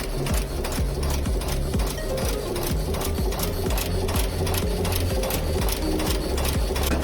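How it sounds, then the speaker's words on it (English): A screw heading machine in a factory runs steadily, loud and near, with a fast, even mechanical clatter and thumping over a constant drone, and no talk. "Through the screw heading machine."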